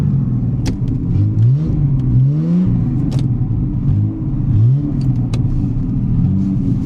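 An old barn-find Jaguar, left sitting for 20 years, revs in first gear; its engine swells and falls through several loud, close rising and dropping throttle blips with no one talking.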